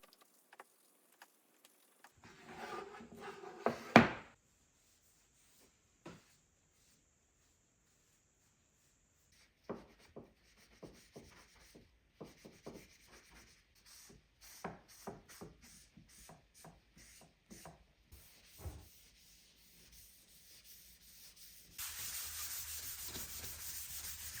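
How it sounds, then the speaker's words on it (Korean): Finishing oil is rubbed onto a wooden monitor stand with soft, scattered swishes and rubbing strokes, faint and close, spaced by quiet pauses, with a denser hiss near the end. "오일을 칠할 때도 마찬가지로 꼼꼼하게 발라줍니다"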